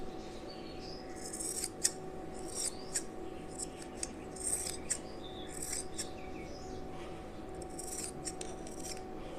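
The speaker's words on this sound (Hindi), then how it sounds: "इसे हम 2 टुकड़ों में कट कर लेंगे कैंची से।" Scissors cut through velvet fabric folded in half, giving a run of crisp snipping strokes close up over steady background hum, with faint chirping behind and no talking.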